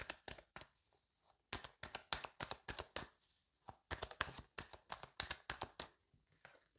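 Oracle cards being shuffled by hand close up, a string of crisp tapping and slapping clicks in quick, uneven bursts with short pauses, with no one talking.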